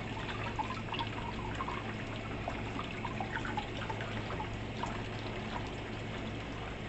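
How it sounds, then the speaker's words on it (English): Tap water runs and splashes over fresh cilantro during a quick rinse, a steady close gush with small spattering bursts throughout, no voices. "Let's get the rinsing up the cilantro, guys."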